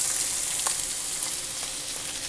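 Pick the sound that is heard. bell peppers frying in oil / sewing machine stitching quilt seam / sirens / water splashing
bell peppers frying in oil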